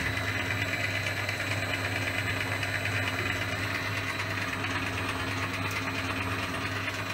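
A metal shaper machine cutting a keyway in an inch-thick gear, giving a steady mechanical hum and rapid rhythmic chattering clatter that runs continuously at an even level throughout, with no voices.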